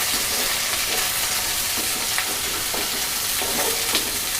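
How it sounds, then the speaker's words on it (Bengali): Chopped onion and garlic fry in hot oil, producing a constant loud sizzle broken by a few soft clicks and scrapes of stirring. "এখানে পেঁয়াজ কুচি এবং রসুন কেটে রেখেছি, এইগুলোকে আমি এই তেলে ভেজে নেব।"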